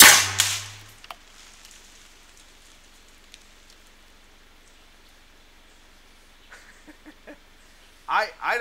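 Small homemade cannon fired with canister shot of BBs outdoors among trees, a single sharp loud blast at the start followed by quiet outdoor ambience, then faint voices near the end.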